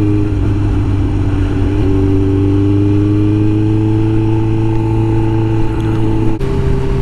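A 2005 Suzuki GSXR1000 K5 motorcycle engine hums steadily while riding, its droning pitch rising slowly, dipping briefly after two seconds, then a short break near six seconds, with no talking.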